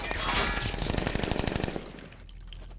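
Rapid bursts of automatic gunfire from a movie rattle out in a dense volley, then cut off, leaving a low hum and faint high ringing behind.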